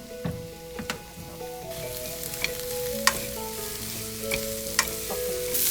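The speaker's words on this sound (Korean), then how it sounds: "기름을 뿌리고 볶아주세요." Vegetables stir-frying in oil, a continuous close sizzle with sharp clicks and scrapes from stirring scattered throughout, alone without voices.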